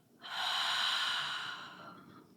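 A single long exhale during a breathing exercise, close and breathy, rising quickly and then fading out over about two seconds.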